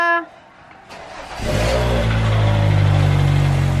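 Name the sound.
car engine running to cool the vehicle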